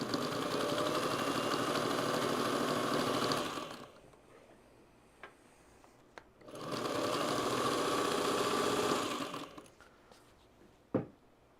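An older sewing machine stitches fabric in two long, steady whirring bursts of rapid mechanical chatter, separated by a quiet pause with a few small clicks and a sharp knock near the end.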